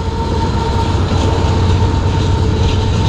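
A long freight train with its locomotive passing close by, a loud, continuous rumble of rolling railcars with faint clattering wheels and a steady tonal hum, filling the whole clip without speech.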